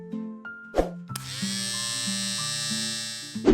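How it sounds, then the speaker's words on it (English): An electric shaver buzzes steadily while trimming fur on the fingers of a puffy four-fingered fursuit paw, a close, continuous motor drone with brief starts and a few pitch shifts as the blade meets the fur. "Now, shave the fur on the fingers."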